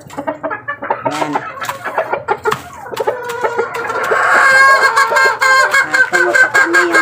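A breeding hen clucks in quick, close bursts, with other chickens joining into a louder, denser cackling chorus partway through.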